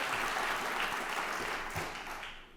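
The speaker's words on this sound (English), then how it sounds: "You can applaud." Audience applause at a ceremony opening a police law enforcement training center, a dense wash of many hands clapping steadily and fairly loud, tapering slightly toward the end.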